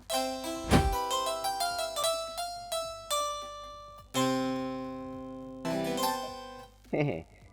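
A Roland GO:KEYS or GO:PIANO digital piano plays a short run of notes and chords, each note ringing out and decaying, with a faint low hum underneath.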